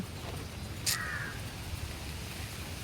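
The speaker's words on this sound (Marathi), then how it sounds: "हे सगळे कावळे रोज येतात रोज आल्याच्या नंतर सगळे इतके जोरजोरात ओरडत येतात" A single crow caws once, fairly near, over a steady background hiss, with no talking.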